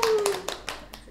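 Hands clapping on a podcast set: a short run of four or five crisp claps in an even rhythm, close and fairly loud, after a voice trails off at the start.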